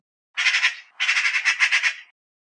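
Magpie call: a short harsh chattering burst followed by a longer rattling series of raspy squawks, loud and close with no other sounds.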